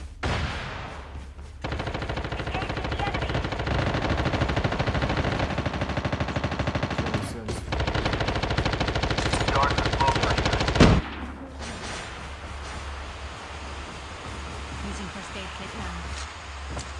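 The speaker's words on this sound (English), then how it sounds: "Someone's shooting." Video game gunfire in long, dense automatic bursts that run for several seconds, break briefly, then resume before giving way to quieter ambience, with voices talking over it.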